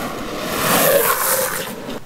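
Orangatang Durian skateboard wheels grind and chatter across pavement in a short, rough slide, a gritty scraping noise that swells briefly and then cuts off.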